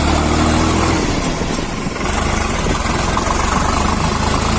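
A tractor engine runs in third gear, a loud, close and steady mechanical drone with a slight dip midway before settling back to an even rumble.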